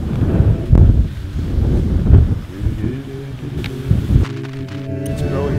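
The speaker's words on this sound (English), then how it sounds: "It's so windy." Strong wind batters the microphone outdoors on Texel, a continuous roaring rumble with low buffeting gusts that swell and ease throughout, loud and close, with faint tonal sounds later.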